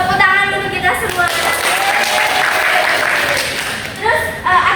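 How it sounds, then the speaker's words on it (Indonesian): A classroom group claps in a sustained round of applause during a team-taught lesson, with voices calling out at the start and end. "Tepuk tangan untuk kita semua."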